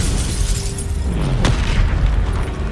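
A Bombarda spell explosion in Hogwarts Legacy, a loud deep boom with a rumbling low roar that sustains throughout, a sharp burst near the middle cutting through the dense blast.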